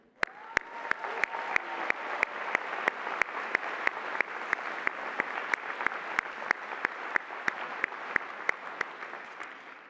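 A crowd at a graduate degree ceremony applauds steadily and evenly, a dense wash of clapping with a few sharper claps standing out, somewhat distant.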